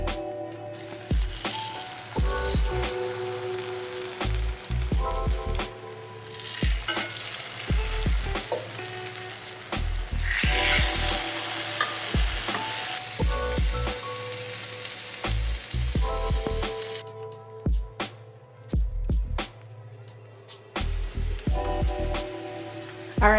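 Slices of pound cake French toast fry in a non-stick pan with a loud, sustained sizzle heard up close, swelling and dipping over time, with melodic background music and no talking.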